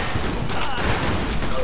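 Gunfire from the Mafia 2 game: a dense burst of shots and thuds under a shouting voice, loud and close.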